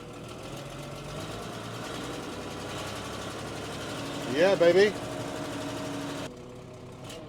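A John Deere 5130 tractor of about 100 horsepower, being driven out after loading, runs with a steady low engine drone throughout, with a brief louder burst near the end and a voice speaking over it.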